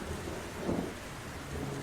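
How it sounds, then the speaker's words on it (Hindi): Heavy rain pours steadily in a Hindi cartoon scene, with a low rumble of thunder swelling briefly midway; fairly soft and continuous with no voices. "बाहर बहुत तेज बारिश हो रही है।"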